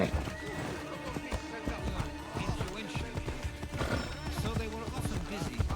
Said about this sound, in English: I need to grab my demon horse.